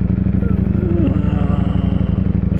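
A 2021 Ducati Streetfighter V4S motorcycle being ridden gives a loud, close engine note with a fast, even pulsing throb that holds steady and does not rev up sharply.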